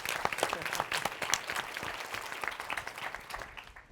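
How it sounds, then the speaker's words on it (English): Audience at a school panel talk applauds, a close, steady patter of many hands clapping for a few seconds before trailing off. "I think they all deserve applause."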